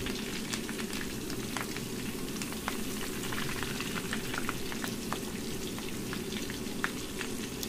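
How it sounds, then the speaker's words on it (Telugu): Chicken pakoda deep frying in hot oil with curry leaves: a dense, steady sizzle scattered with sharp, frequent crackles and pops, close and moderately loud, with no talking. "చిటపట సౌండ్ తగ్గేదాకా మంచిగా ఇట్లా ఫ్రై చేసుకోవాలి"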